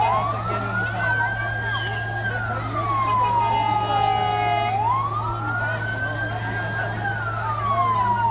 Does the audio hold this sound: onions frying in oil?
no